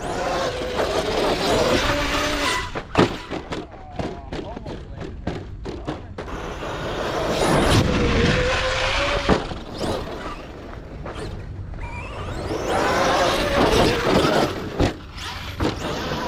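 An Arrma Outcast 8S EXB RC car driven and jumped outdoors, with whining motor bursts, revving, thumps of landings and rattles across the stretch, and people talking over it at times.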